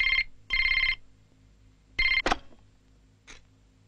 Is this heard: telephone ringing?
yes